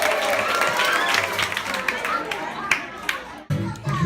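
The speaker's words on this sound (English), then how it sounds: "Clap loudly for yourself." A children's audience at a Pete the Cat singalong claps loudly for itself, a burst of dense applause and excited chatter that thins out after a few seconds.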